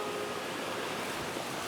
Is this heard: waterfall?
yes